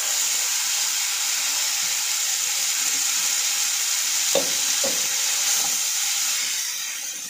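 Oil with turmeric, chilli, cumin and tomato frying in a pan, a steady loud sizzle and hiss throughout with a couple of stirring clinks midway.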